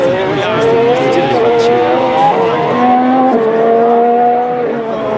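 The Ferrari SF-26 Formula 1 car's engine roars on track, loud and rasping, with pitch climbing through gear changes and dropping on downshifts.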